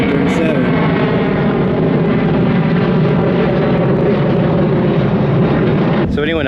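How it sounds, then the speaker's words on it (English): Boeing 737 airplane flying overhead in Australia, a loud steady broadband roar that holds for several seconds, with people talking faintly underneath. "There's a plane. 737."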